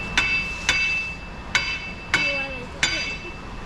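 Five sharp metallic hammer taps on a bolt at a truck's rear axle during a 9.5-inch 14-bolt six-lug axle swap, spaced irregularly with bright ringing decay, close and loud, a few faint squeaks between strikes.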